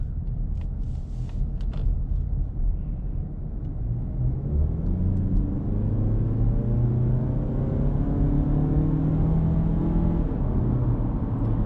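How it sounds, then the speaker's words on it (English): A 2019 Mazda3 sedan with the base package accelerates in sport mode, its engine note rising steadily and holding each gear long, heard from inside the cabin as a continuous loud rumble with no talk. "we're going to put the sport mode on. I'll show you how that sounds in the acceleration."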